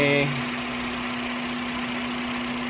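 A Honda City automatic car engine idles in a steady, low, even drone, close by, with a brief louder burst at the very start and then a constant hum.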